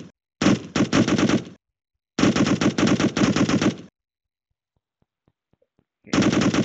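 Rapid machine gun bursts in an Unreal Engine 4 first-person shooter game, three loud sustained volleys separated by brief silences, each a dense rattle of shots.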